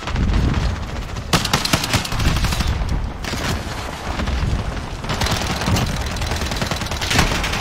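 Rapid gunfire in a Call of Duty multiplayer match on the cramped Shipment map, bursts of automatic weapon fire and booms overlapping almost continuously, loud and dense throughout with no talking.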